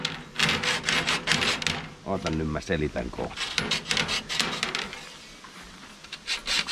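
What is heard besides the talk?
woodworking, cutting bevels into wood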